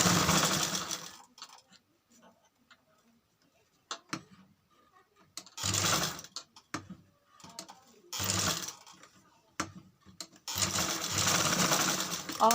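Sewing machine stitching lace onto fabric for a tasseled trim, running in several loud bursts of rapid stitching separated by pauses with quiet handling.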